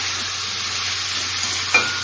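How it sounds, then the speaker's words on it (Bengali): Onions fry in a pan with a steady close sizzle throughout. A small clink of stirring sounds near the end, and no one speaks. "পেঁয়াজটা ভাজা হচ্ছে।"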